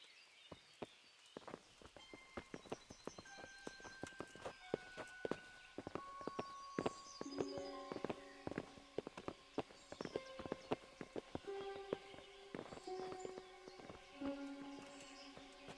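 Several horses walking on a path in Kingdom Come: Deliverance, their hooves clip-clopping in a steady, overlapping rhythm at moderate distance, with soft music beneath.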